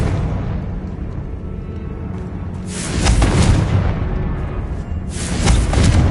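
Confringo spell blasts in the game Hogwarts Legacy: a low rumbling background broken by two loud, booming explosions a couple of seconds apart, each with a heavy thud and crackling tail.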